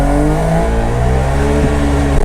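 A Puma GT's two-stroke engine revs up close, a loud buzzing drone with a strong steady pitch that holds and shifts slightly, alone without talk.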